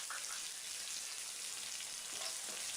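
Chopped onion, green chillies and cumin seeds frying in oil in a pan, a steady dense sizzle with faint stirring scrapes throughout.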